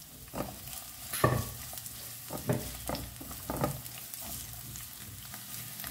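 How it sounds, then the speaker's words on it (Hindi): Lengthwise-sliced onions frying in a pan for browning give a soft, low sizzle broken by several scraping stirs of a utensil, quiet and close with no talking. "अब इस प्याज को ना एक बढ़िया सा ब्राउन कलर आने तक हमें इसे फ्राई करना है।"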